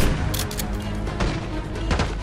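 Dense gunfire from the Call of Duty Black Ops 6 campaign on PC, with rapid overlapping shots and booming bursts that stay loud and close the whole time.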